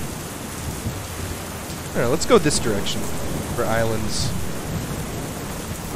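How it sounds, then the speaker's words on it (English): Steady rain hisses throughout in Ark: Pandora Island, with someone talking briefly over it midway. "this rain is really, really obnoxious."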